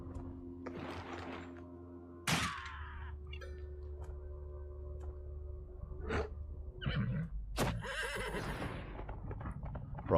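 A horse in the video game Wartales neighs loudly twice, a sharp whinny near the start and another toward the end, over steady game ambience and soft hoof clatter.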